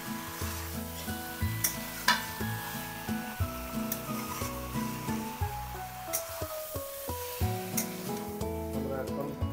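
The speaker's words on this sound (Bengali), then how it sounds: "ভালো করে নাড়ানো হচ্ছে। আস্তে আস্তে করে মাংসটাকে কষিয়ে নেবো আমরা ভালো করে" Meat being stirred and fried in a pan, with steady sizzling and intermittent scraping strokes under continuous background music.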